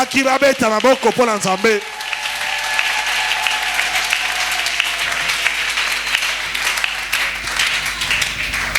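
A church congregation breaks into loud, sustained applause right after a preacher's sermon line. It rises abruptly and keeps up as a dense, steady wash of clapping until the end.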